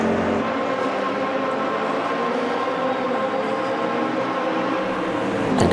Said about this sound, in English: That's that V12 on that Maserati is getting louder and louder.